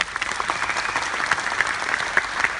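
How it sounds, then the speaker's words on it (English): Lecture-hall audience at KL University bursts into dense applause, many hands clapping steadily throughout with a few sharper claps standing out, loud and close, with no talking over it. "Give yourself a big round of applause."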